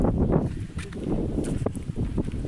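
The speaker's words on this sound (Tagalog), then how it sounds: "Maingay ang hangin." Strong outdoor wind buffets the microphone in an uneven, rumbling roar that rises and falls in gusts, with no talking.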